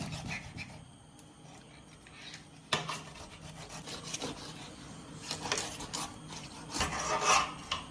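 Thick section of a large stingray being cut, a close rasping, scraping sound of a blade working through tough flesh, with irregular louder strokes.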